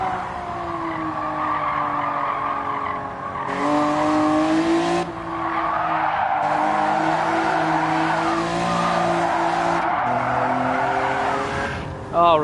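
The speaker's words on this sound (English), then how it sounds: "Let's get a quick little second lap in." A race car lapping a track in Gran Turismo 7 on racing sports hard tires with weak brakes: a loud, continuous engine whine that shifts pitch through gear changes, with tire squeal through corners.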